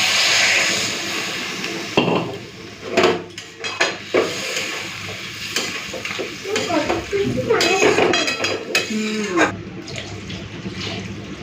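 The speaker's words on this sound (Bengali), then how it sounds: "এখন দেবো টমেটো কুচি এবার নেড়ে চেড়ে মিশিয়ে দিলাম জল দিয়ে দিচ্ছি" Chopped tomato gets stirred through a rohu fish curry in a pan, with repeated scraping and clattering strokes over a sizzle and water going in, under brief bits of talk.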